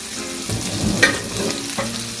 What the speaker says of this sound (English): we're going to go ahead and add the other vegetables in, like so